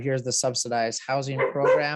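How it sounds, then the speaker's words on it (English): A pet dog barks in a home behind a person who is talking. The short barks are mixed under the steady speech. "You can hear my dog barking in the background."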